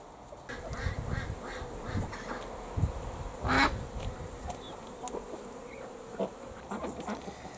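Honey bees buzz outdoors on a sunny November day against a steady background hum, with a louder buzz passing close by midway through.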